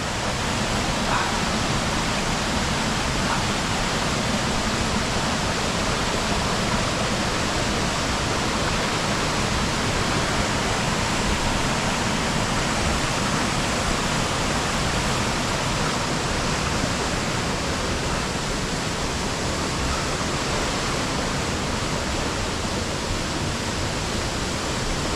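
River water rushing over rocks at Stainforth makes a loud, dense, unbroken roar up close. It holds steady for the whole stretch.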